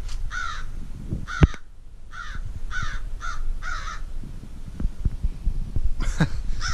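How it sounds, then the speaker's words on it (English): Several harsh crow caws, some in quick pairs, repeat across the clip over a steady low rumble of outdoor background noise. "Shut up, crow. There's a crow up there."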